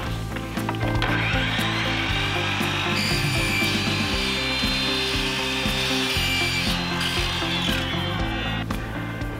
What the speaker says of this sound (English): when you're using a power tool to cut your painted steel